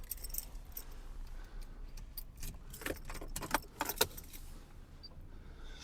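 Car keys jangle and clink in several quick metallic bursts inside a Mercedes W126, close and bright over a low, quiet background rumble.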